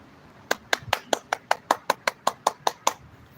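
Twelve crisp, evenly spaced hand claps ring out one after another in a steady deliberate rhythm, loud and close with no talking.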